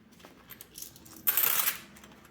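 Coins clink and rattle as they drop back into a food budget envelope, with a few light taps first and then one louder, brief jingling spill up close.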